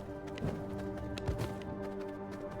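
Hooves clip-clop as a horse moves in the V Rising video game, a quiet run of soft taps over a steady musical background, with no talking.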